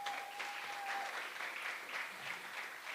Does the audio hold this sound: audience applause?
yes